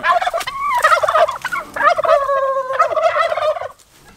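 A chicken on a farm calls out in a loud, close, gobbling series of squawks lasting a few seconds before falling quiet.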